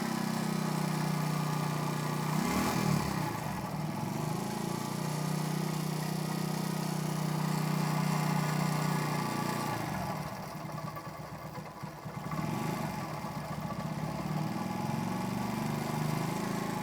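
A cold Zanella 4T moped engine runs steadily with a low, even idle drone that dips and roughens briefly near the middle before settling back.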